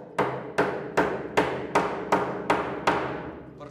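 Wooden dowel being driven into a glued hole while building a side table, eight evenly spaced, sharp knocks that each ring out briefly, close and fairly loud, with no voices.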